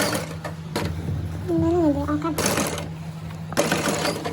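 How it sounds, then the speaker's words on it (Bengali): Sewing machine stitching the side band and side seam of a kurti made from tissue fabric, with steady running bursts of stitching broken by short pauses and a nearby voice speaking over part of it. "এরপর আমি সাইড ব্যান্ডটা সেলাই করে নিব"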